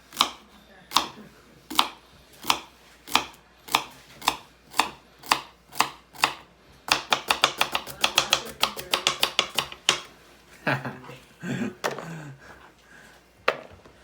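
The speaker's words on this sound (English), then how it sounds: "now we'll dice that up" A knife dices vegetables for hamburger soup on a cutting board, starting with steady, evenly spaced chops that speed into a rapid flurry, then give way to softer scraping and clatter near the end.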